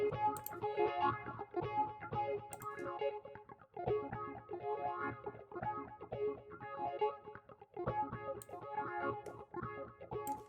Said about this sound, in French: La petite reverb qu'il y a là.